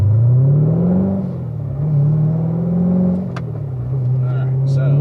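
Car engine on a race track lap, loud and close, revving up through gears with rising and falling pitch, while someone talks over it.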